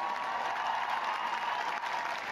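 An audience claps steadily at a show jumping prize ceremony at the Dublin Nations Cup, a dense, sustained wash of applause heard from a distance with no break.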